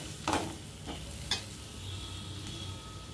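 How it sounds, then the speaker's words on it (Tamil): Chicken masala frying in oil in a pan, a quiet steady sizzle broken by a couple of brief stirring scrapes, with no talk. "நல்லா ஆயிலில் கொஞ்சம் ஃப்ரை ஆகட்டும்."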